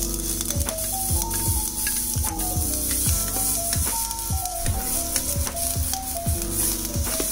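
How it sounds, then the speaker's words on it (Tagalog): Garlic and onion sautéing in a pan, a constant hiss of frying with repeated scraping and stirring knocks from a utensil, close up while music plays underneath. "magigisa tayo ng garlic at onion"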